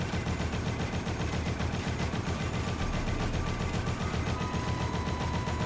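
Steady, rapid gunfire in the video game Dead Rising keeps up a continuous machine-gun rattle as shots are fired at the flashing lights of a tank, with no pauses throughout.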